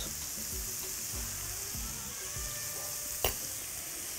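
Chopped onions with salt and black pepper sizzling in a pot as liver stew begins to cook, a steady close bubbling hiss with low stirring thumps and one brief sharp clink near the end.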